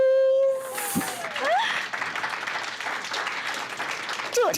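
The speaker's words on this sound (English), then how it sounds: "I want some claps, please." A community audience at a storytelling talk breaks into sustained clapping, starting after a brief voice and continuing steadily, moderately close, until near the end.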